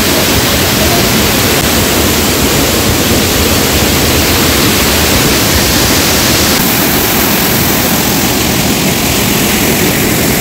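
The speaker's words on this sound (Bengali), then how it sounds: "পেছনেই ঝর্ণা।" A waterfall roars right behind the listener, a dense, steady wash of loud rushing water that stays unbroken from start to finish with no voices heard.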